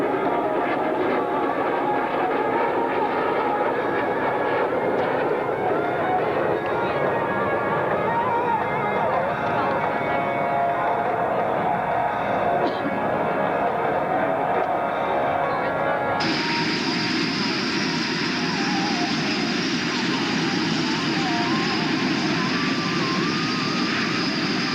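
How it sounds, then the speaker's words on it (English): A stealth strategic bomber passes at the 1995 London International Airshow, a constant heavy jet roar that fills the whole stretch and turns brighter and harsher partway through, with no voices over it. "This is supposed to be the ultimate in stealth strategic bomber technology."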